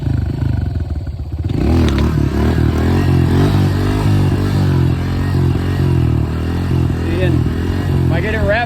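Honda CRF125F dirt bike in first gear, engine rising from a low idle into a loud, sustained rev with wavering pitch as the throttle is worked, the rider's voice running over it.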